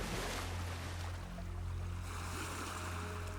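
Ocean waves surge and break on a stormy beach where a fisherman walks on stilts, making a loud, continuous roar of surf and wind with no clear breaks.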